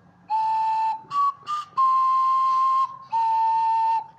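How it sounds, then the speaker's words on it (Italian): Whistle-like tones from a flute carved from a carrot, blown in several sustained notes with short breaks and brief pitch shifts, loud and close with no talk. "i flauti con le carote"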